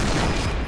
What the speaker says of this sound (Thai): ยิงจนกระสุนหมดอ่ะ